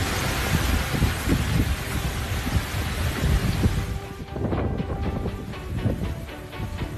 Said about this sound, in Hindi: इसके बाद इन तूफानी बादलों ने पानी बरसाना शुरू कर दिया।